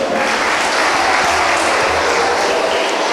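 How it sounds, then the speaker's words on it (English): Steady applause from an audience at a children's talent show in Gambia, dense and continuous throughout, with no talk over it. "Please clap for Sonna Sen once again"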